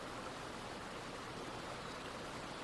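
Water of a small brook flows in a steady, even rush of broadband noise, soft and continuous with no other sounds.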